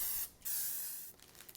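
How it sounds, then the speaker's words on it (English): Baking spray from an aerosol can misted onto a 12 by 18 baking sheet in two close hissing bursts, soft and near, with no voices. "we're just going to spray that with baking spray"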